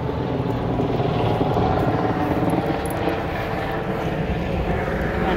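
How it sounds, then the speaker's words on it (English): A helicopter's constant rotor thrum and engine roar, loud and steady throughout, as if flying close overhead. "And a helicopter."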